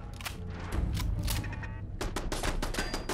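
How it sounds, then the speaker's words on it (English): Rapid gunfire in a post-apocalyptic wasteland video game comes as dense bursts of sharp cracks, loud and close, with a brief lull before a second volley. "Someone's shooting at me."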